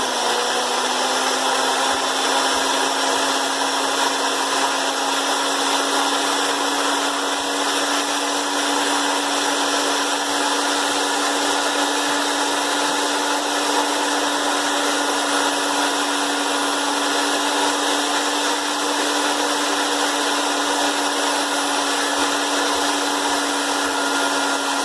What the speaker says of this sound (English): I just take this and I start up my drill.